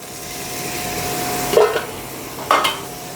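Tomatoes for liver curry are stirred in a sizzling pan, a steady soft frying hiss broken by two short, louder scraping strokes of the spoon near the end.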